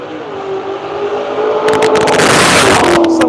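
A Chevrolet Corvette E-Ray race car roars past on track at World Wide Technology Raceway, a steady engine hum building into a loud burst of throttle noise that echoes off the wall as the car slows.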